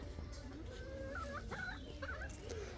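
A hen clucks softly in a rural Bangladeshi yard, several short, warbling calls rising and falling over a low background hum, faint and somewhat distant, with no one talking.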